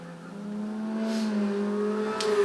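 A Datsun 240Z race car at a Nordschleife race start, its engine holding a loud, steady, throaty drone that builds slowly as it accelerates, with a brief rasp of other cars close by.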